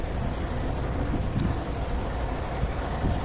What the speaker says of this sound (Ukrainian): Вибачте, у нас вітер.